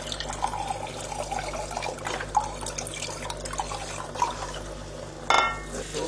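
Liquid stock and a little water pour into a pot of beef casserole with red wine and prosciutto, a steady trickling and splashing with faint drips, close by, over a low background hum.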